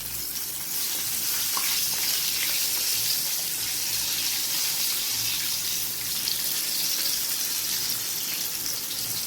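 Broasted chicken pieces frying in hot oil, a steady, dense sizzle and hiss that holds at an even level throughout, with no voices.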